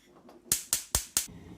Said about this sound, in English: And switch on the gas.